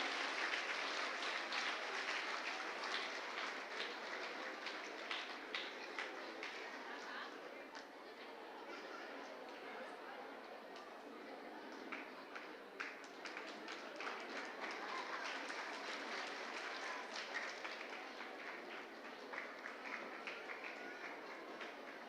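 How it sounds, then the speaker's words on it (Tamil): An audience at a felicitation ceremony gives sustained applause, a dense, even wash of clapping that lasts throughout, with faint voices and chatter mixed in. "பலத்த கைதட்டல்களுடன் அவர்களுக்கு பாராட்டுகளை தெரிவித்துக் கொள்ளலாம்."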